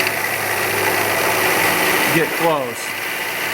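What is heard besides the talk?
milling machine cutting with half-inch end mill at 750 RPM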